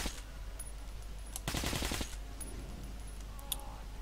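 Metro Last Light Redux gunplay: a quick burst of automatic fire cracks out in the middle of a steady low hum, with a few faint isolated shots around it.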